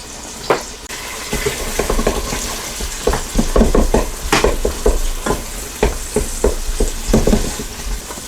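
Food sizzles and fries in a Ninja Foodi multicooker on sear and sauté mode while being stirred, with a steady close hiss broken by repeated scraping strokes and no voices.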